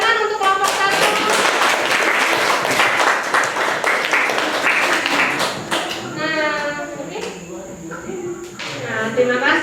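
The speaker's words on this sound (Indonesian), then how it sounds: "Tepuk tangan untuk kelompok 1." A classroom gives applause for a student group, a burst of many hands clapping densely for several seconds, then tapering off as voices take over.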